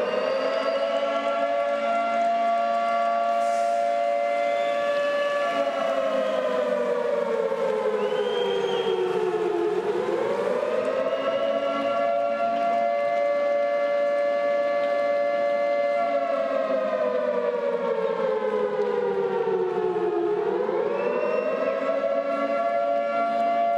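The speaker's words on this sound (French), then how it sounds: "Arslanbek Makhmoudov qui rentre sur sa sirène" A civil-defense-style siren plays for heavyweight boxer Arslanbek Makhmudov's ring entrance. It sounds loud and steady, holding a wailing tone that dips and rises in slow cycles for over twenty seconds.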